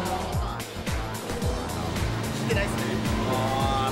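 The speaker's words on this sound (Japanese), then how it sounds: "エンジンの調子を耳で感じる。" A Subaru Impreza race car in a Tomei Cusco Cyber Evo time-attack setup idles and revs in pit lane, its engine note loud and close, rising and falling in repeated pulls while someone speaks briefly over it.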